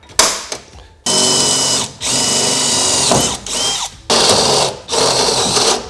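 A tool sets a plus nut insert into the bed frame of a Ford F-150 in a close, loud series of whirring bursts. Each run lasts about a second and is separated by brief gaps and small mechanical clicks.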